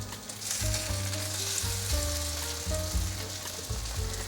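Sweet potato and carrot patties pan-frying, a close continuous sizzle and crackle that runs without a break, with faint pan shifts and no talking.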